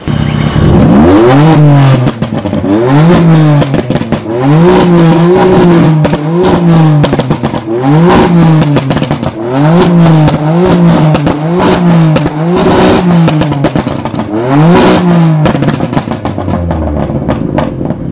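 A BMW M4 engine revs hard again and again, rising and falling in rapid repeated bursts, loud and close with a rough crackling edge.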